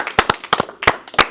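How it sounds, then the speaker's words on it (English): A podcast audience claps for a guest in a short, sparse burst: a handful of sharp, close hand claps spaced unevenly over just over a second, with no talking. "Can we get a round of applause for Patrick?"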